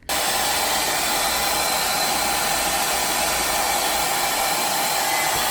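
A hair dryer blows steadily and loudly, a constant rushing whir of air with a motor hum that starts abruptly and holds without a break.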